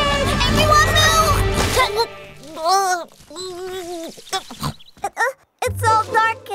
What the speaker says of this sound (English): It's a wild pig.